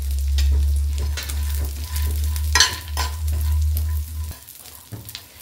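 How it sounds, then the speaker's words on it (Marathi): Raisins and dry fruits roast in hot ghee, a loud close sizzle with rapid stirring scrapes and a sharp spoon clatter in the middle, the frying dropping off near the end. "सर्व हे पदार्थ आहेत ना तुपामध्ये ना छान असे खरपूस भाजून घ्यायचे"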